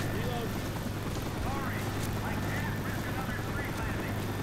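A Black Hawk helicopter passes overhead in Left 4 Dead 2, a steady low rotor drone filling the scene beneath loud talking and scattered game noises.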